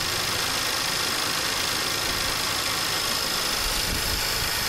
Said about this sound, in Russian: Работа мотора отличная.